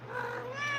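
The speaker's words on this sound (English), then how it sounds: "This cat is not normal, okay?" A rescued house cat gives a single drawn-out meow, close and fairly soft, with the pitch rising toward the end and no talk over it.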